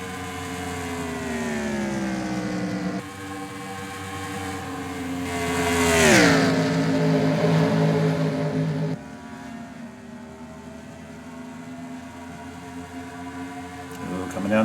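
Stock cars race at Auto Club in a video game, their engines droning loudly and steadily with pitch shifts as they pass, under continuous race commentary.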